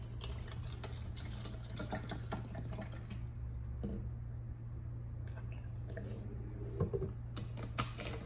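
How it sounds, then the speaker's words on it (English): Iceage Glacial bottled artesian water is poured into a small pH test cup, making a faint, close trickle and a few drips. A steady low electrical hum runs underneath. "Let's pour some water in."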